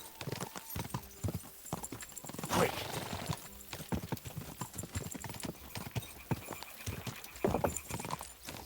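A horse gallops in the video game Kingdom Come: Deliverance II, a fast, steady clip-clop of hooves running through most of the stretch at moderate level, with no talk over it.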